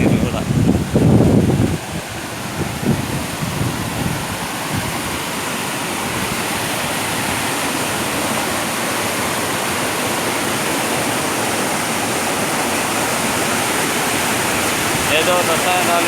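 Rushing water of Kaigal waterfall in Chittoor district, a dense steady roar close by and filling the scene, with a brief louder burst of nearby voices at the start before the water carries on alone.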